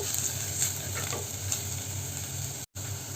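Spice masala with chili powder heats in a pan with a steady low sizzle throughout, faint stirring scrapes on top and a brief dropout near the end.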